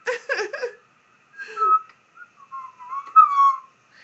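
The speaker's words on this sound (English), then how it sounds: "I just want to keep whistling every time he does that." Someone whistles a few short, wavering notes, with a brief cluster of whistled chirps at the start, then a longer sliding tune after a pause.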